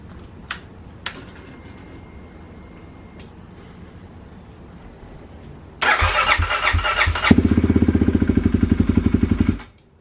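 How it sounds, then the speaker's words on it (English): A Kawasaki KLX351 motorcycle with its secondary throttle blade removed sits quiet with a couple of light clicks, then cranks and fires into a loud, pulsing idle for several seconds before cutting off. "Let's go ahead and start it up first before we button everything up."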